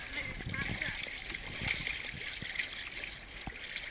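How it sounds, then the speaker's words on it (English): Small boat hull slapping and splashing through choppy waves, with broadband water rush and irregular thuds of spray close by, and voices talking over the sloshing. "Oh, wave breaker 3. Encountering some waves."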